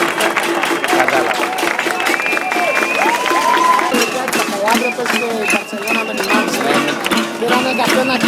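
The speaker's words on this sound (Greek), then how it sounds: "Τώρα χειροκροτούν" A crowd at an Indignados street protest in Greece claps and cheers loudly and steadily throughout, a dense wash of applause with voices mixed in.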